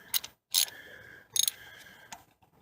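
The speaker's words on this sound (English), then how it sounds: "This is a 5/8 spark plug wrench. But you just get it in there nice and easy." A 5/8 spark plug wrench turning a spark plug on a Nissan Altima, heard as a few quiet, close ratcheting clicks in short bursts separated by brief pauses, with no talking.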